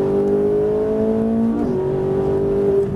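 A Ferrari 458 Italia engine accelerating at close range, a steady loud drone that rises in pitch, dips briefly as it shifts gear, then climbs again.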